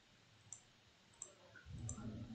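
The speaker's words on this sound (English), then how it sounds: "let me click on this link" A computer mouse clicks a web link in a quiet room: three sharp, faint clicks spaced well apart, followed by a low rumble of background noise.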